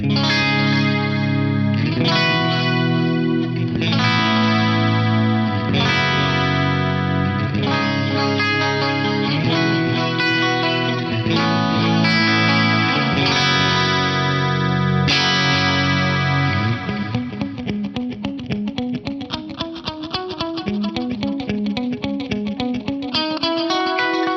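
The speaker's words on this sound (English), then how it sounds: "I've just added 400 milliseconds of delay and some feedback to each side" Electric guitar in an H3000-style dirty detune setup with 400 ms delay and feedback on each side: a lush, wide run of chords and notes with repeats trailing behind, played loud and continuously without any talk.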